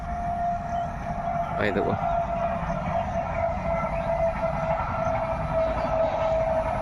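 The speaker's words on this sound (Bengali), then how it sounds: "আবার একটা ট্রেন যাচ্ছে, দেখা, এটা কিন্তু এক্সপ্রেস ট্রেন।" An express train on a line running toward Howrah passes close by, a steady loud rumble with a sustained horn-like tone and a brief burst of clatter, while someone speaks briefly.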